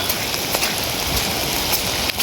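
Steady, dense rain pours down over flooded paddy fields during rice planting, a continuous close wash of drops with no pauses and no voices.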